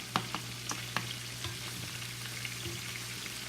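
Garlic and onions sautéing in a pan with red pepper flakes, for a sautéed kale dish: a steady, soft sizzle and frying hiss throughout, with a few light stirring clinks and scrapes, no talking.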